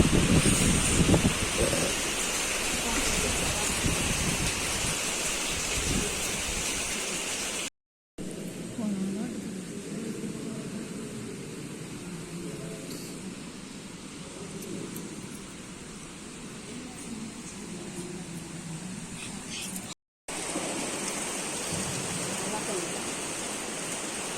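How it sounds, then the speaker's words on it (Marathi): Heavy rain pours down steadily in a dense, continuous hiss, loud and close, with brief cuts where the sound drops out. "पाऊस बघ कसला जोरात आलाय"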